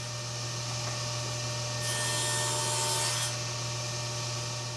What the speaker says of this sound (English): The rabbet that I'm cutting now is for the back panel, and I'm doing that with 3 cuts using the thinner blade